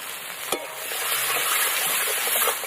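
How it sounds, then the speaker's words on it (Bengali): Chopped onions fry in hot oil with bay leaf, dried chilli and whole garam masala for a duck curry, a steady loud sizzle with a single sharp clatter of a stirring spoon early on. "পেঁয়াজটা একদম ভালো করে কিন্তু লাল করে ভেজে নেব।"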